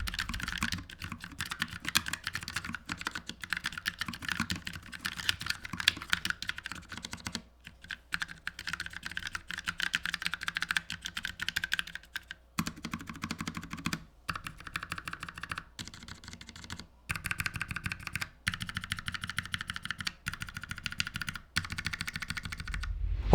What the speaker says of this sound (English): Key presses have a nice solid and crisp sound to them, and there's none of that metallic pinging or ringing sound